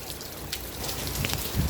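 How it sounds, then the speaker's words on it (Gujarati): Steady rain patters and hisses continuously in Jamnagar, a dense close-up spatter on a surface with no voices. "વરસાદ ચાલુ છે અમારે જામનગર શહેરમાં લઈ લે વરસાદ જો"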